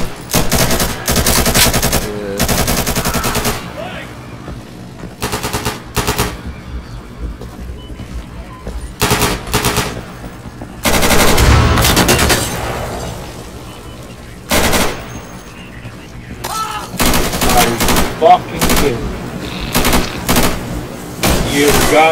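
Loud bursts of heavy machine gun fire in the shooter game Insurgency on a custom jail-break map, sustained rattling volleys separated by short pauses, with occasional talk from players underneath.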